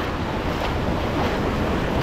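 Steady rushing roar of ocean surf with wind buffeting the microphone, continuous and fairly loud, no voices.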